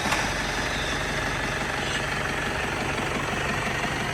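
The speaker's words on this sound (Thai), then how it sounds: "สตาร์ทเครื่องเลยครับเนี่ย เป็นเครื่องโตโยต้าเนี่ยโลโก้เขา D4D นะครับ" A Toyota Tiger D4D 3.0 turbo diesel engine idles steadily, a constant loud rumble with a dense mechanical clatter and no break.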